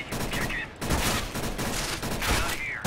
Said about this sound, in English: Whoa, I just got shot at.